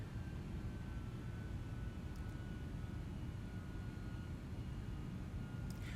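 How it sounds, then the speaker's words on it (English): Simulated Airbus jet engines in Microsoft Flight Simulator give a steady, even low roar and broadband hiss that holds at a constant level throughout, with no talking over it. "Engines are responding."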